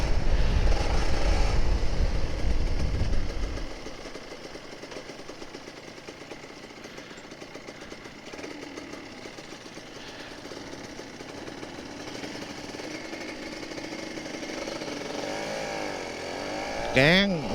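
A Kawasaki Ninja RR 150 two-stroke motorcycle engine, smoking heavily, drones steadily nearby on a morning ride, with a brief loud rev at the start and people chatting over the running engine.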